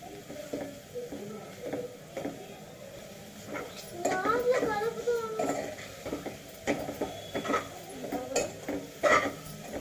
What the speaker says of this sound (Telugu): వేసినాక బాగా కలుపుకోవాలి